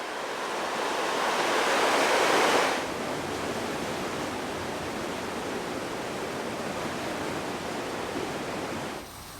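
The Deschutes River flowing beside a walking path in Olympia, Washington, a steady broadband rush of moving water, louder for the first few seconds and then evenly continuous, with no voices.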